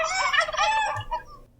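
A turkey gobbles once in a quick warbling burst, close and fairly loud, fading out over about a second.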